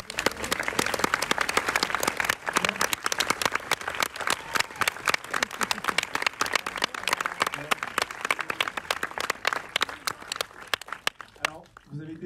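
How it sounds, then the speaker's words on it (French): A festival audience applauds steadily, a dense patter of many hands clapping that fades off near the end. "Je vais vous demander, s'il vous plaît, de réserver vos plus beaux applaudissements"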